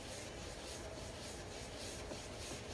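A brush rubs Dixie Belle copper topcoat paint into a surface with steady, continuous scrubbing strokes, close and even, with no voices.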